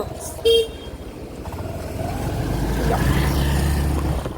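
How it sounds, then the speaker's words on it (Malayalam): Staff vehicles pull in at a hospital emergency department, a loud horn toot near the start followed by a rising engine rumble as a car or motorbike approaches close by under outdoor background noise. "ഇതൊക്കെ സ്റ്റാഫിൻ്റെ വണ്ടികളാണ് എല്ലാം വന്നുകൊണ്ടിരിക്കുന്നുണ്ട്"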